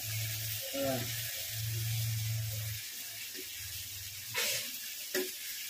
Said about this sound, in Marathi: आपण आता ह्याच्यामध्ये मच्छी टाकते मित्रांनो